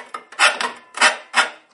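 Hand rasp strokes scrape across the metal flash on a Corsair 800D computer case, four close, rough strokes, each a short gritty burst separated by brief pauses.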